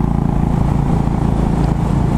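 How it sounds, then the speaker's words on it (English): A Royal Enfield Bullet motorcycle engine runs steadily nearby with an even, rapid thumping beat and a dense low rumble, with no talking. "Curry, the Enfield is burning it up"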